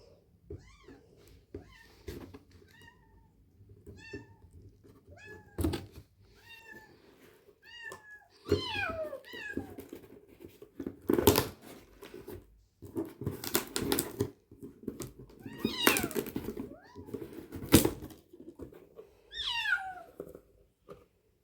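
A kitten meows repeatedly in short, high chirping cries, first spaced out and then more insistent, with rustling and clattering handling noises in between.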